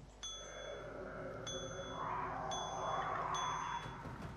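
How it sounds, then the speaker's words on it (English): Bell in the HPL3 game engine demo ringing four times in clear, evenly spaced dings, each with a bright ringing tail, over a low steady background hum. "When I press this button, the bell will ring there"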